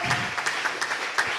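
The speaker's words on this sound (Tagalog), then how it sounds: "Palakpakan natin ng malakas na palakpak." Loud, steady applause from a congregation at a preaching service, a dense continuous clatter of many hands clapping close by.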